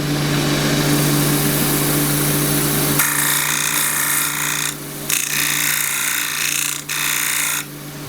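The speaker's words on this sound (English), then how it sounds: "it's sensible to just drop the rest a little bit and shear scrape" Wood lathe shear-scraping a small natural edge bowl, the tool edge held on a lowered rest: a steady hum with a low drone, then from the third second a bright, continuous scraping hiss that drops out briefly twice, close and loud, no talk.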